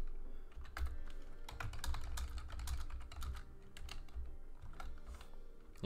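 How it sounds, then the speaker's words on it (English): Steady typing on a computer keyboard, with dense, fast keystrokes clattering continuously and close up during a live Cricket Captain 2022 stream. "I thought I would just type in the Discord real quick."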